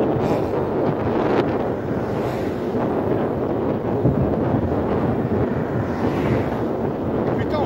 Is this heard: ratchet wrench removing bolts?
no